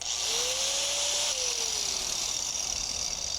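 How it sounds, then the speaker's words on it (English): An angle grinder cuts through a rusty bearing on a shaft, giving a loud continuous high-pitched whine with a rising then falling tone in the middle. "my only option was to use the angle grinder, which I have a big fear of"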